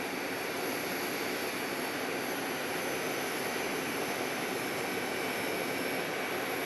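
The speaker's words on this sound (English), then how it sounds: "this is an A321neo landing from DFW" Airbus A321neo jet landing at Phoenix Sky Harbor after arriving from DFW, a loud unbroken engine roar and rushing noise held steady throughout with no talking.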